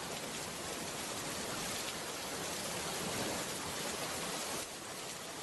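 Heavy rain pours steadily on a village, a dense, even hiss of falling water that stays loud and constant throughout, with no voices.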